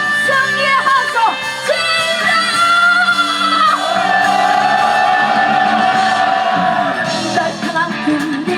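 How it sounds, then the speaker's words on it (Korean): At an electrical workers' union rally, a crowd raises a loud, sustained collective victory shout, many voices yelling and whooping together in drawn-out tones. "열받는 것 다들 마음에 담아서 승리의 함성"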